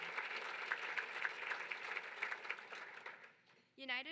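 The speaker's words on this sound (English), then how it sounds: "So let's give them an applause" A crowd at a community campaign kickoff event applauds volunteers with steady, moderately loud clapping. It fades out toward the end and gives way to a short spoken voice.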